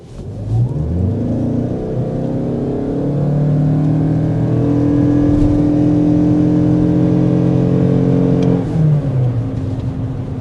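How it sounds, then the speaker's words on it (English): A 2025 Toyota Crown Signia hybrid pulls hard and rises steadily in pitch, a continuous loud acceleration with no voices. "But first, we want to go ahead and start with a hard acceleration."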